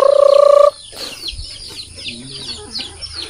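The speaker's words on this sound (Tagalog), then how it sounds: "Ayan, yung mga kanyang manok, mga kinsik." A brief pulsing electronic tone, then chickens cluck and chirp softly in short, scattered calls close by.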